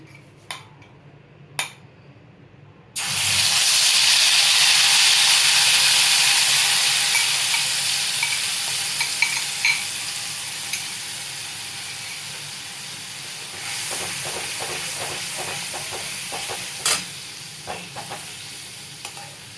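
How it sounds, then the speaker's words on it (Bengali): Spice and yogurt paste for Kashmiri aloo dum hits hot oil and breaks into a loud, steady sizzle after a few seconds of quiet. The hiss slowly eases while a utensil stirs, adding light clicks and scrapes against the pan. "এই পেস্টটা তেলে দেওয়ার পর ভালো করে নাড়াচাড়া করে একটু কষাতে হবে"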